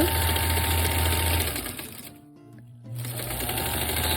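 A domestic sewing machine stitches free-motion quilting in a fast, close, steady hum, pausing for about a second before running on again.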